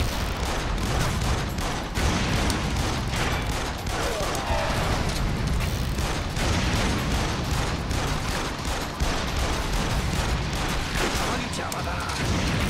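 Continuous in-game gunfire in Yakuza Kiwami on PS4 Pro, a dense, loud barrage of shots and booms running throughout without a break, with a voice talking faintly underneath.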